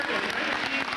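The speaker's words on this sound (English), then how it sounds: "A well-deserved round of applause." Crowd applauding at a 1991 high school basketball game in a gym, North Olmsted at Amherst, a steady dense wash of clapping held at an even level throughout.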